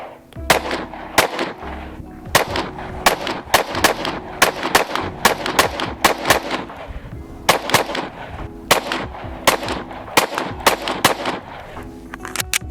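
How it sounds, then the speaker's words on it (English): An FN Five-seven pistol fires dozens of sharp, loud shots at steel targets, coming in quick irregular strings with brief pauses between groups, each crack close and echoing slightly outdoors with no talking. "My target fell over, so I'm gonna be shooting steel."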